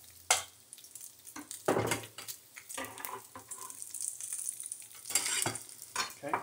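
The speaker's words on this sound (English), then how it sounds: "we'll turn the fire down on our bacon. It's about ready to flip." Bacon fries in a pan on a stovetop with a close, crackling sizzle and irregular pops and spits. No one speaks over it.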